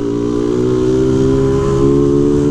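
Motorcycle fitted with a Polimet can-style exhaust revs steadily and loudly, a continuous droning engine note holding strong throughout with a slight rise near the end, no talk over it.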